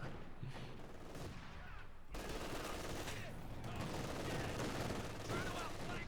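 A .50 cal machine gun fires in a real-time strategy game, with rapid overlapping bursts and distant gunfire under continuous battle noise, mixed with a voice talking.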